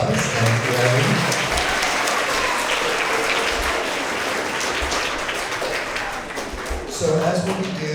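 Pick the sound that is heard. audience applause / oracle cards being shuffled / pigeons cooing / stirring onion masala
audience applause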